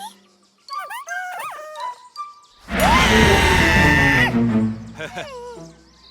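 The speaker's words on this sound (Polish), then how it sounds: "Słyszałyście kiedyś krzyk prehistorycznych motyli?" Cartoon prehistoric butterflies let out a long, shrill, wavering scream for a second or two, framed by squeaky chirping cartoon voices before and after.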